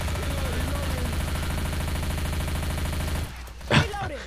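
Rapid pistol fire in Left 4 Dead 2 comes as a dense, steady run of sharp shots for about three seconds, then breaks off abruptly into a quieter game background with a brief swell of noise.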